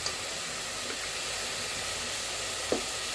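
Mutton liver for a gravy sautés in a pan, making a soft, even frying hiss with a faint clink or two. The sound is quiet and steady throughout.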